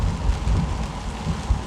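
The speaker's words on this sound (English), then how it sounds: "It's raining right now, unfortunately, because I really wanted to take you through Gatlinburg." Steady rain falls over Gatlinburg, a dense continuous hiss with low rumbling underneath, no voices, constant and moderately loud throughout.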